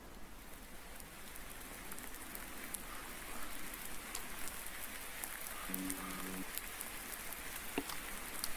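Steady rain in the farming game Farming Simulator 19 with the Seasons mod on the Greenwich Valley map, a continuous even hiss of falling drops with no voices.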